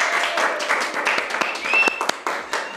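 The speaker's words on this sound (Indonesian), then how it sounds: "Tepuk tangan semua." Audience applause welcoming a guest onto a stage at an event, a steady wash of many hands clapping for a few seconds with a voice briefly audible underneath.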